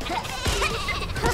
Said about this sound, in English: Loads of sheep.